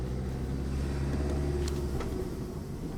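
A car in a driving lesson restarts and pulls away, its engine giving a steady, moderately close low drone with slight shifts in pitch and no talk over it.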